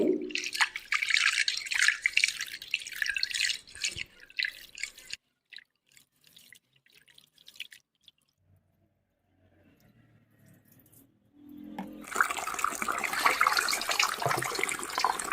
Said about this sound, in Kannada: ಎರಡು ಮೂರು ಸಲ ನಾವು ಅಕ್ಕಿ ತೊಳಿಬೇಕು